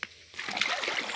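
A brief splash as someone wades into clear water: a short quiet moment, then a close, noisy burst of splashing and sloshing that keeps going to the end.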